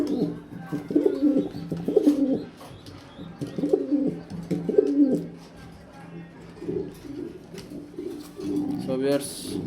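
Pigeons cooing in repeated low, throaty bursts, close by, with quieter stretches between calls and some background noise.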